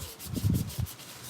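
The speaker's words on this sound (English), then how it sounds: "basically what I'm doing with this is just a light sanding" Light hand sanding of a toy with 320-grit sandpaper, a soft, close scratchy rubbing in a few short strokes with no talking.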